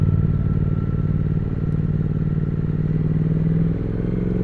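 A 2023 Triumph Speed Twin's engine drones steadily while being ridden, a close, loud low rumble with a steady note that drops slightly near the end as it settles lower.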